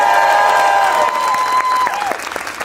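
Loud applause and cheering from an audience at a Republican political debate, a strong burst that gradually fades, with a sustained whistle or tone running through it.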